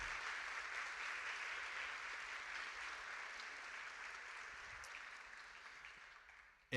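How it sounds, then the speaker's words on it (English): Sustained applause for graduating seniors at a high school senior awards ceremony, steady broadband clapping filling the room for several seconds and stopping abruptly at the end, with no talking over it. "Can we give them a round of applause?"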